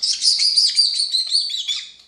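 A pet parrot screeches close and loud, giving a continuous run of shrill, piercing calls for about two seconds with no talking.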